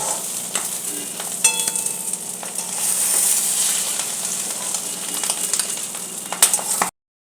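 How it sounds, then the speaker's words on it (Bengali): Steady, loud sizzling of food frying in hot oil, a continuous crackling hiss with occasional sharper pops and clicks throughout. "তেলটা কিন্তু গরম হয়ে গেছে এবার এটা কিন্তু আমি ভাজতে দিয়ে দিলাম"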